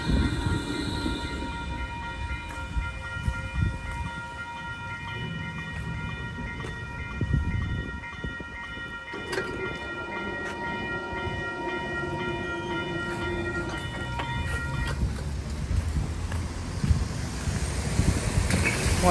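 A train rolls past outdoors near a station, a loud continuous rumble of wheels and carriages with ringing tonal squeals, under steady wind noise on the microphone.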